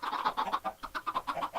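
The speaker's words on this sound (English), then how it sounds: "look at these chickens. They're just falling." Minecraft chickens cluck in a quick, evenly spaced run of short bursts, close and clear, with no talking over them.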